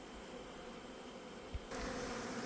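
Honeybees hum in a soft, continuous buzz that swells louder near the end, with a brief thump partway through.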